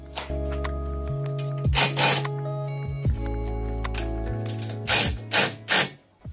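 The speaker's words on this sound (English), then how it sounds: "I'm using my 1/2" impact, because I know this will torque it down real good." A 1/2 inch impact wrench drives the front bumper bolts on a Jeep Wrangler, with a steady whirring motor between loud, repeated rattling hammer bursts up close, and no talking.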